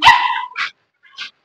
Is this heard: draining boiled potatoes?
no